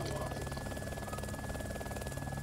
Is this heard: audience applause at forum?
no